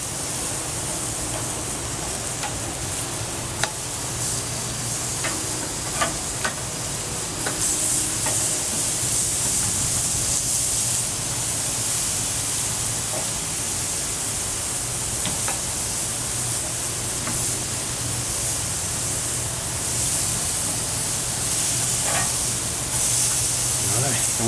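Chicken breast sizzles steadily on a grill after being flipped, a continuous loud hiss and crackle with scattered pops, joined by faint rumbling background noise throughout.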